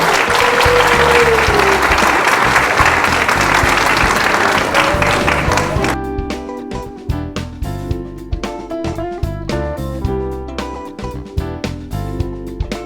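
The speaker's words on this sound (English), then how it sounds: "We should give them a round of applause" An audience at a school leadership day applauds its panel, loud dense clapping for about six seconds before giving way to music with sharp percussive beats.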